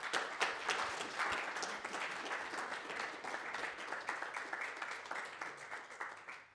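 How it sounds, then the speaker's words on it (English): Sustained audience applause at an academic programming-languages conference after a talk, a dense, steady patter of many hands clapping at moderate distance, with no talking over it. "There was a big round of applause for you there."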